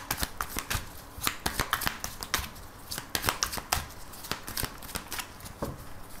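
A deck of oracle cards shuffled and cut by hand, close and crisp, with rapid irregular bursts of riffling and slapping card edges running steadily throughout, no voices.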